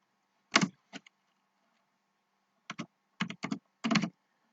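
Keys clattering on a computer keyboard while writing HTML/CSS code, in short bursts: a quick couple of strokes, a pause, then a faster run of taps, close and fairly quiet.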